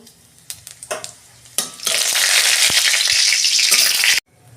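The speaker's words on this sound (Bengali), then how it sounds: "ফোড়নটা ভাজা হয়ে গেছে।" Whole cumin, a bay leaf and a dried chilli crackle in hot oil, a dense sizzle that bursts up after a few light clatters and runs steadily for a couple of seconds before stopping abruptly.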